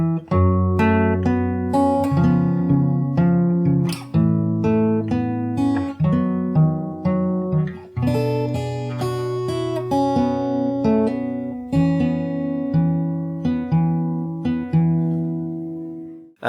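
Solo fingerstyle guitar plays the chorus of a song, with steady plucked melody notes over sustained bass, clear and close throughout before a final fade.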